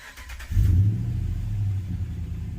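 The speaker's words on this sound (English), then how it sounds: "So when he fires up the truck," A RAM 1500 pickup truck fitted with a BDX tuner fires up, a brief cranking burst giving way to a loud, steady low idle rumble close to the microphone.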